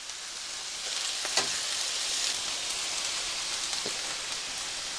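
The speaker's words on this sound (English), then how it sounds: "The pork is getting some nice sear on it." Chunks of pork for carnitas sear in a hot pan, producing a continuous close, hissing sizzle with a few sharper spatters and pops over a rain-like crackle.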